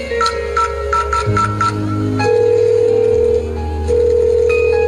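A telephone call is placed to check on a son: steady tonal beeps and ringback tones sound loud and close, overlaid with a shifting electronic melody, with no voice heard.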